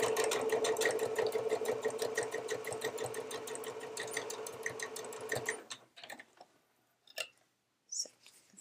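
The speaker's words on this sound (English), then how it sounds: "stitching those down to create a larger piece of fabric" Sewing machine joining fabric pieces with a 3/8-inch seam allowance, a steady rapid stitching whir for about five seconds, close and clear, then stopping and leaving faint handling sounds.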